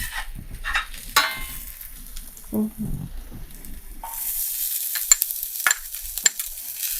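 Ginger sautéing in a pan for fried eggplant, with soft oil sizzle under intermittent stirring scrapes and sharp utensil clinks against the pan, growing brighter and more active in the second half.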